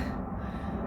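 Heavy, steady breathing of a runner winded after a climb on a hiking and running path, close and continuous with no talking.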